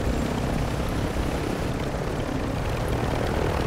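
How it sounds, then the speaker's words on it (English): Aircraft flying overhead in a military shooter video game, a steady broadband engine roar with a low droning rumble that holds constant and loud throughout, with no talk. "Sounds like a plane."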